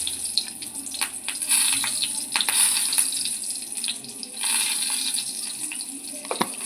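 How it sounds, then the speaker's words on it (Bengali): Green chili and black cumin seeds drop into hot oil in a kadai for Bengali doi maach, giving a steady, close crackling sizzle with sharp pops and spits throughout, and no voices. "এবার আমি কড়াইয়ের যে তেলটা আছে সেই তেলের মধ্যে দিয়ে দিচ্ছি একটা কাঁচা লঙ্কা আর কালো জিরে ফোড়ন"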